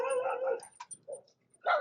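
Dogs, including a Dalmatian, bark and yip in short, fairly faint bursts with pauses between them, mixed with some vocal sounds.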